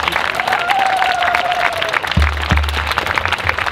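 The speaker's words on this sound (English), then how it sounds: "Please give yourselves all a round of applause just for being here" An audience applauds at a talk about the Bilderberg meetings, dense steady clapping filling the room throughout, with a brief whistle-like tone and a few low thumps near the microphone.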